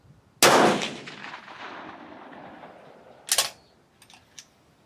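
A rifle fires a handload of 42.5 grains of IMR 4320 powder behind a 178 grain Hornady ELD match bullet, producing one sharp, loud report with a long fading tail, followed by a few fainter clicks and taps.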